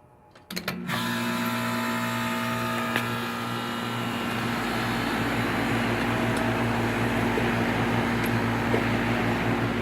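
Goodman air conditioner starting up: a few clicks and a thump, then the unit settles into a loud, steady mechanical hum with a tonal drone that runs unchanged for the rest of the clip.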